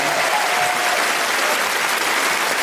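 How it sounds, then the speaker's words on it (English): Steady, full applause from a stand-up comedy audience fills the room, a dense wash of clapping hands that holds at an even level throughout. "Give this person a clap for coming on their own."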